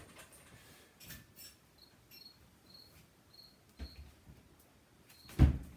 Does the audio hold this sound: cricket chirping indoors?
yes